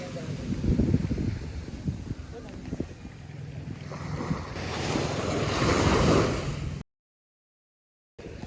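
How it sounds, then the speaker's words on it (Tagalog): Ocean waves break and wash continuously on a beach in Bataan, a loud steady surf roar buffeted by wind against the microphone, with voices faintly underneath before the sound cuts out briefly near the end. "Tignan niyo yung alon, guys."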